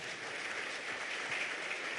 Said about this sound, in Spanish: Démosle un aplauso a Jesús,